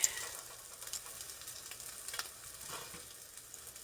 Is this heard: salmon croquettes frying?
yes